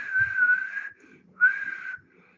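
A person whistles two sustained, steady notes close up, separated by a short pause, with no other sound around them.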